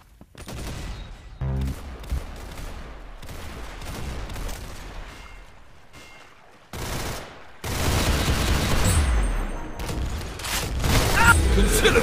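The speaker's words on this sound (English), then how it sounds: "Being shot at!" Bursts of automatic gunfire and booming shots in the online shooter game Arsenal, loud and dense throughout, with a brief gap before heavier sustained firing near the end; a voice speaks over parts of it.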